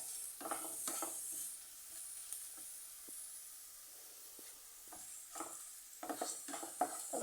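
Garlic fries in oil for a Kerala mango pickle, a soft steady sizzle punctuated by scattered clinks and scrapes of stirring in the pan, fairly quiet and without talk.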